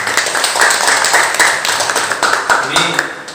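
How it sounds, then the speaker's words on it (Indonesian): Applause from a school audience, a dense patter of many hands clapping at once, loud and steady with a few sharper individual claps standing out. "tepuk tangan untuk kita semua"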